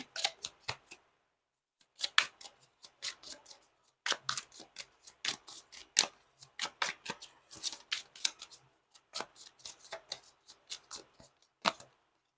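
Tarot cards being shuffled by hand in fast, crisp riffling bursts with brief pauses between them, close and fairly quiet with no talking.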